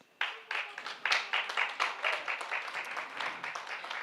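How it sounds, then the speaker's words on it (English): Applause from a small audience at an alumni event, individual claps standing out in an uneven rhythm that starts suddenly, peaks early and thins gradually, fairly quiet. "I want all of you to give yourselves a round of applause."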